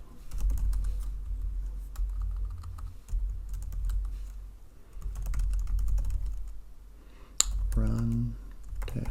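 Keys clatter steadily as Docker commands are typed on a computer keyboard for a Kali Linux container, close and fairly loud, with a low background hum and a brief sharp click near the end.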